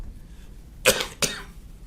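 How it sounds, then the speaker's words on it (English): A woman in a courtroom, suffering from a bad cold, gives two sharp, close coughs roughly a third of a second apart, with quiet room tone before and after. "excuse my cough here"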